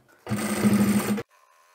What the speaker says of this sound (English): I'm using the edge of my foot or the center of my foot as my guide and I start sewing